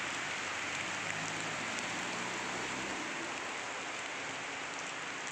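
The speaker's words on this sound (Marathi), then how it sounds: "हा बघा पाऊस पडायला लागला" Rain falls steadily outdoors as a dense, even hiss, loud and continuous with no voices.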